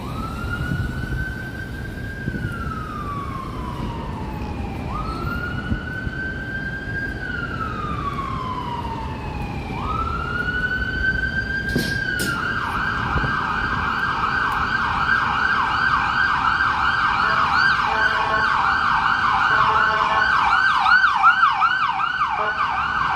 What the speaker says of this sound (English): Wow, that's a noisy ambulance.